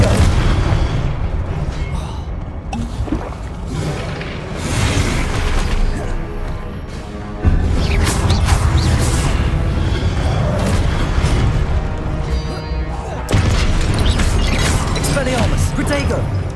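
Confringo spell explosions go off in Hogwarts Legacy amid combat, loud booming blasts with sudden onsets repeating over the fight, mixed with other spell effects and voices calling out spells.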